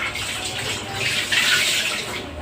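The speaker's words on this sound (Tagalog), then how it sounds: "tapos na po ako maghugas ng plato, malinis na po" Water runs steadily from a tap into a kitchen sink while dishes are washed, a close, loud, continuous splashing rush with no talk.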